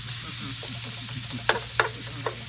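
Chicken and snake beans stir-fry in a hot skillet with a soft continuous sizzle, broken by a few sharp scrapes and stirs from a utensil, fairly close, with no talking.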